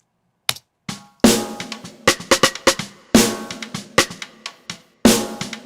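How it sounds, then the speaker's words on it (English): Snare drum drenched in Eventide reverb with no gate, struck in an irregular pattern of sharp hits whose washy tails ring out between strokes, several louder accents standing out; no talking. "that way I'll be able to have that reverb just on the snare"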